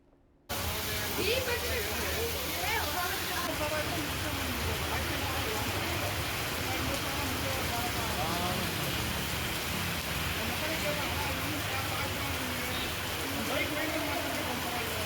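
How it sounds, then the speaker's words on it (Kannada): Heavy monsoon rain pours down steadily in Shivamogga, Karnataka, a dense continuous hiss of drops drumming on surfaces, loud and close throughout after a brief quiet start. "ದೋ ಅಂತ ಮಳೆರಾಯ ಸುರಿತಾ ಇದ್ದಾನೆ"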